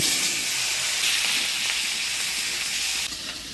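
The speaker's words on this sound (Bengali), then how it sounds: "এবার মাছের ঝোলে ফোড়ন দিব শুকনো লঙ্কা, তেজপাতা, গোটা জিরা" Dried red chillies, bay leaf and whole cumin sizzle loudly in a Bengali fish curry with potatoes, a steady bright hiss filling the whole stretch and easing slightly near the end.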